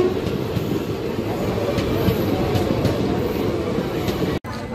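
Palnadu Superfast Express on the Vikarabad to Guntur run gives a loud, steady rolling rumble with faint rhythmic wheel clatter, heard from inside the train and broken by a brief dropout just before the end.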